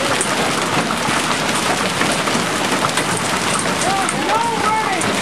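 Hailstones pelting the ground and surfaces during a Maysville, Oklahoma hailstorm, a dense continuous patter of hard impacts outdoors, loud and steady, with a few faint voice-like tones near the end.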